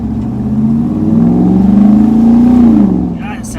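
Truck with a swapped Gen V L83 V8 revving from inside the cab, a deep throaty engine tone climbing and holding, then easing off, loud and close with a voice over it.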